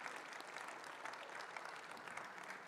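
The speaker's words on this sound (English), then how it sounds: "can we have a lovely round of applause for our amazing panel this morning?" An audience at a morning panel session gives a steady round of applause, dense uniform clapping throughout at a modest, slightly distant level.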